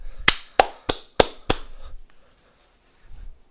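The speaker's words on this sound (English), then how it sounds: "Golf clap to them." A few sharp, separate hand claps, five quick slaps in a slow uneven rhythm, close and moderately loud, followed by near silence.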